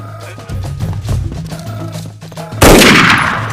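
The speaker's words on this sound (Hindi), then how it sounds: "फायरिंग हो गई" A gunshot sound effect in a Hindi-dubbed action movie cracks loudly after a stretch of background music, followed by a long ringing, decaying tail.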